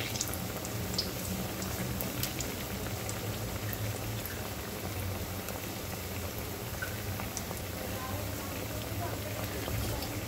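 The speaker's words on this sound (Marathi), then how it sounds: "आणि याला छान खरपूस तळून घ्यायचं आहे आपल्याला." Bread pakora deep-frying in hot oil for a street-style snack, a steady dense bubbling sizzle that runs evenly throughout at moderate, close level with no clear breaks.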